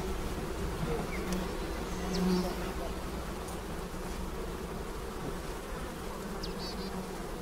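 Honeybees buzzing steadily around hives at a spring apiary, a dense continuous hum of many insects close by, with a few faint brief sounds on top and no speech.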